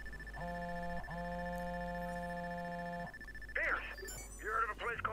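Phone ringing in the video game Watch Dogs: a steady electronic ring in two bursts, the first short, the second held for about two seconds, followed by in-game voices talking.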